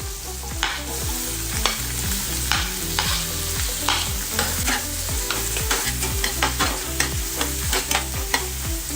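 Capsicum stir-fried in kadhai masala with red chili powder and cream in a kadhai over a medium flame. A steady close sizzle runs throughout, broken by frequent rhythmic spatula scrapes over a low tonal hum.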